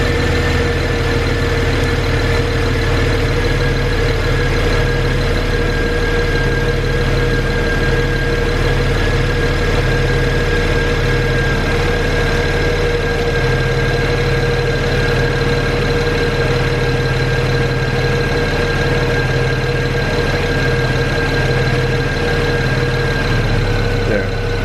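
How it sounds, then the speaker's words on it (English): A BMW N54 engine idles steadily close by, a continuous low rumble with a faint whine above it, unchanging throughout. "It's about to flip over, you can hear the engine settling out."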